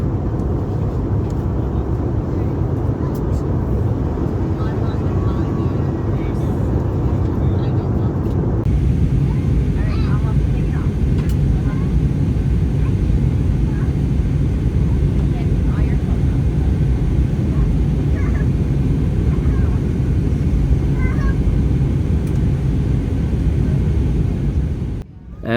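Steady low roar inside the cabin of a jetBlue Airbus A320 descending into Boston, a constant engine and airflow drone that drops slightly in brightness partway through and holds evenly to the end.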